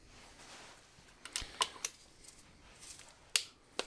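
Torque wrench on a 13mm socket tightening a starter motor bolt to 24 Nm on a MINI R50, giving a few sharp, faint clicks and ticks in a quiet workshop, with one crisper click near the end.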